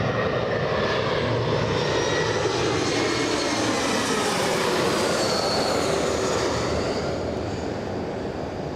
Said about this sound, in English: Oh, that's a beautiful touchdown.